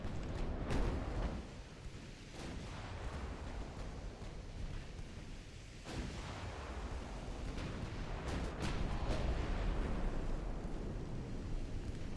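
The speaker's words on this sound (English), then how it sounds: "We're shooting at the battleship." Naval gunfire aimed at a battleship in Ultimate Admiral: Dreadnoughts, aboard HMS Hibernia of the Edward VII class. A dense rumbling roar of sea and distant cannon carries sharp booming shots near the start, around six seconds and again later.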